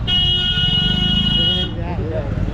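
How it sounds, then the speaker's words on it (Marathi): A vehicle horn blares in one long, steady blast near a crowded temple queue, then cuts off, leaving street noise and a voice in the background. "ज्यामुळे ते हॉर्न वाजवत."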